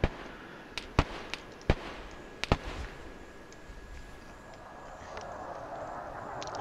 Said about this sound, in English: Here come mortars.